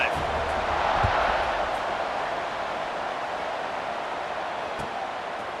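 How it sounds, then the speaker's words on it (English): Steady roar of a stadium crowd cheering at a college football game in the video game College Football 26, a broad continuous wash of noise that swells slightly early on. "this crowd is feeling themselves after that last drive"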